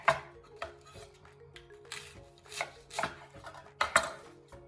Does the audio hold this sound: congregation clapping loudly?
no